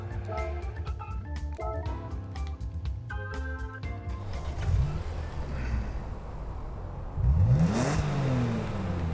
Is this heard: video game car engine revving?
yes